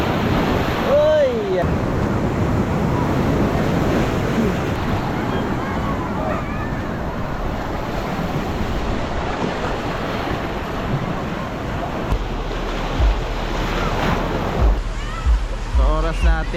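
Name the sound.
strong ocean waves crashing on rocky beach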